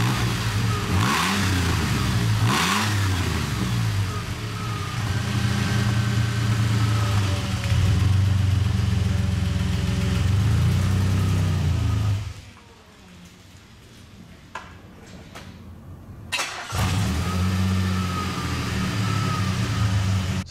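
A DeLorean with a delayed-engaging transmission pulls out into traffic, its engine revving and droning loudly for about twelve seconds, then dropping to near quiet before picking up again.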